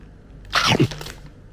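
One close, sharp crunch from biting a small, flat Meiji snack: a chocolate-coated crisp cookie shaped like a capsule. A brief crackle follows, then quiet.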